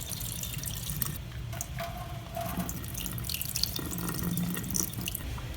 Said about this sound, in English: These I want to drain.